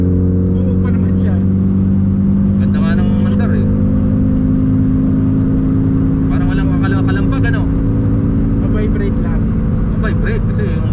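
Loud, steady engine drone fills the cabin of a Mitsubishi Lancer rally car with a MIVEC engine, not fully tuned, while people talk over it throughout.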